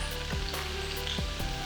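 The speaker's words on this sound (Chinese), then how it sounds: "把它倒进去一起炒" Mixed vegetables with white beech mushrooms, bell peppers and snap peas stir-fried in a pan, a steady close sizzle with a couple of soft stirring scrapes.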